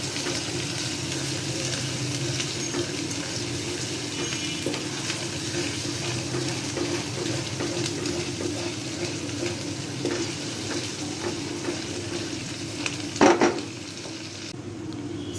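Spice paste and milk sautéing for a rohu fish korma, a steady close sizzle with scraping stirs throughout, and a brief louder clatter near the end; no voices.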